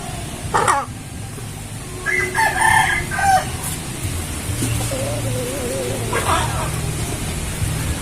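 Broiler chickens and a rooster on a small poultry farm cluck and crow nearby, with a drawn-out crow and scattered clucks over a steady hiss like rain and faint background voices.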